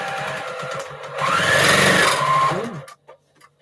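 A sewing machine stitches quilt string blocks in one close, steady whirring run of about two seconds with a faint rhythmic needle pulse, then stops, leaving light handling clicks.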